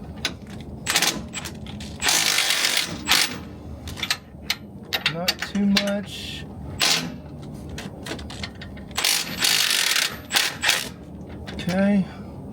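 A ratchet backing off bolts on the heavy-duty steering of a Jeep Gladiator overland build: bursts of rapid clicking alternate with pauses, close and loud.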